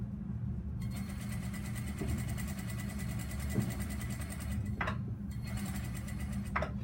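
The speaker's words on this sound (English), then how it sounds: "we're gonna sew 1/2 inch past our corner, just like we did with the 90-degree angle, and then lift and continue sewing straight" A sewing machine hums steadily as it stitches half an inch past a corner on a garment's inseam pocket, a low continuous whir interrupted by a couple of short sharp clicks and brief pauses.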